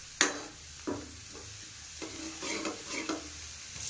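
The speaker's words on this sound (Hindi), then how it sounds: "ये प्याज पकड़ा बढ़िया तरह भून ले, गोल्डन गोल्डन कर ले।" Onions frying in a pan, stirred until golden, with a steady close sizzle broken by several sharp scraping stir strokes at irregular intervals; no talking.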